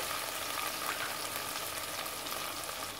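Tomatoes sautéing with onions in a pan, giving a continuous, even frying sizzle with faint stirring, close and steady throughout.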